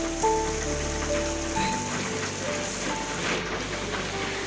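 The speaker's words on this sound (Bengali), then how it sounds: "মাছগুলো তেলের মধ্যে দিয়েই কিন্তু নাড়া হচ্ছে, কারণ মাগুর মাছ কিন্তু তেলে দিয়েই নাড়তে হয়" Magur catfish fry in hot oil and are stirred, giving a dense, continuous sizzle and crackle close by throughout, with a faint steady hum underneath.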